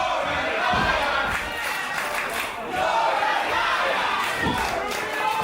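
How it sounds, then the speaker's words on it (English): A crowd at a live wrestling title match between Jordan Saeed and Zulu Warrior chants in loud, rhythmic unison, its massed voices rising and falling in steady waves that fill the hall throughout. "The crowd now chanting Jordan Liar"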